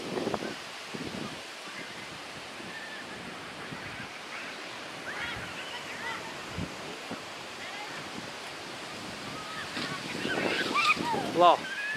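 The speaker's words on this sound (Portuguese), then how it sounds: "É um vento muito forte agora aqui" Strong wind outdoors at a riverside community in the Amazon, a steady rushing roar with buffeting gusts on the microphone that grow louder toward the end, with speech in the background.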